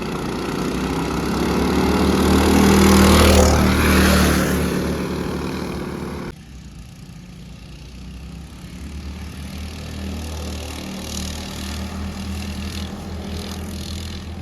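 Two gas mini bikes race side by side, one with a Predator 224 engine and one with a stock engine, their small engines droning loud and steady, close at first and then falling away to a quieter, more distant hum.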